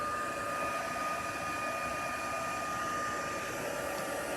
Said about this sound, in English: Bringing in my heat tool.